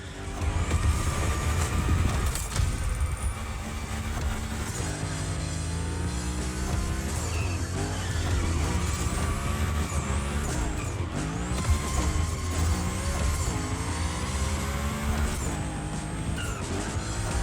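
A Hoonigan gymkhana car in the racing game The Crew Motorfest roars at a constant high rev, with tires squealing and skidding through drifts, loud and unbroken over the whole stretch.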